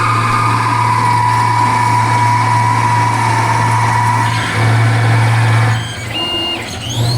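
A CNC lathe makes a roughing pass profiling the outer diameter of a part, with a loud, steady motor hum and a cutting whine. The tone shifts near the end as the machine moves on.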